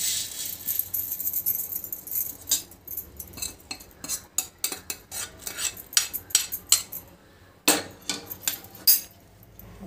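Roasted coriander and cumin seeds tipped from a kadhai onto a plate, heard as scattered dry clinks and rattling pattering, a dense rush of small grains early then intermittent sharper taps, close and alone.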